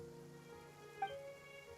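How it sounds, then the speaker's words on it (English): Rain falling in the Genshin Impact video game, heard as a soft, steady patter mixed with faint game music, with a light tap partway through. "It's been raining non-stop for a few days now."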